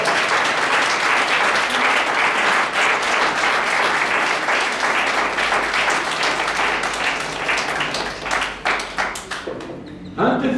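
Church congregation applauds in a long, loud, sustained round of clapping that thins into scattered claps and trails off at the end.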